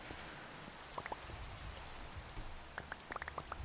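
Rain falls in Minecraft Java Edition, a steady hiss of downpour with scattered sharp droplet pings clustering toward the end, moderately faint and with no voices.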